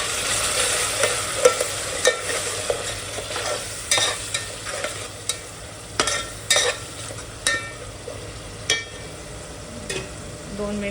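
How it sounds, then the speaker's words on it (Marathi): Ginger, garlic and green chili paste frying in a pan after onions have browned, a close bright sizzle broken by regular scraping stirs of a spoon about once a second, no talking. "आता आलं लसूणची पेस्ट चांगली झाली आहे, फ्राय झाले आहे"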